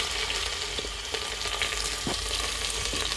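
Chopped onions frying in a pan with a bay leaf and cumin, a steady loud sizzle with a few stirring scrapes and knocks, no voice.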